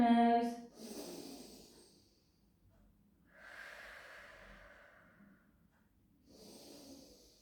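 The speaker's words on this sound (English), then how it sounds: "Take a few breaths in through the nose" Slow breaths drawn in through the nose during a barre exercise class, three separate airy inhales spaced a couple of seconds apart, close and fairly quiet.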